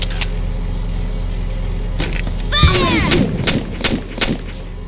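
Missile launch from a lance weapon in Valkyria Chronicles: a sharp thump followed by a whooshing, rising burst with rumbling tail, set against a steady low battlefield hum.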